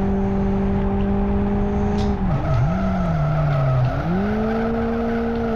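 A turbocharged Toyota AE86 drifting in Live For Speed, its engine droning steadily loud while the tires squeal, the engine pitch dipping twice as the car slides and then recovers.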